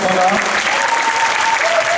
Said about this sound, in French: alors on les applaudit bien fort, ces 4 là